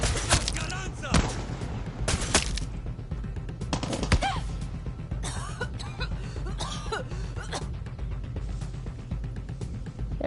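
Gunfire in Far Cry 6 crackles as a series of sharp shots and short bursts, some close and loud, others spaced apart over a low background rumble of the game.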